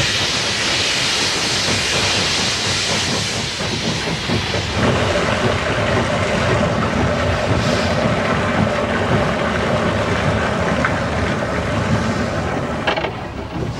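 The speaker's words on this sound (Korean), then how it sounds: "여기에선 증기기관차를 아직도 사용하고 있다." A Chinese-built Jianshe-class steam locomotive from the 1950s runs with a loud, continuous hiss and chuffing rumble, close and steady for the whole stretch.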